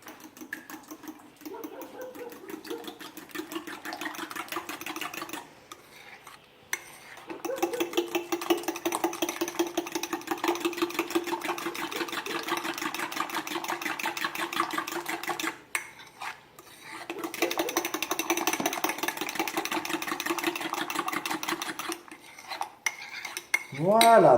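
Banana and chestnut-flour crêpe batter beaten with six eggs in a bowl, a fast steady whisking clatter of utensil against the bowl that runs continuously for long stretches, pausing briefly a few times, close and fairly loud.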